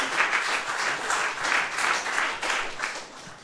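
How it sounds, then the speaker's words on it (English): A live comedy show audience in San Francisco applauding, sustained clapping that swells and dips in waves over a few seconds. "Give him a round of applause."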